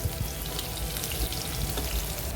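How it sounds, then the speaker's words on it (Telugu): Garlic frying in hot oil for a raw mango dal, a dense crackling sizzle with faint spatters, close and steady throughout, with no talking. "వెల్లుల్లి కాస్త కలర్ చేంజ్ వచ్చేంత వరకు వేయించుకుందాం"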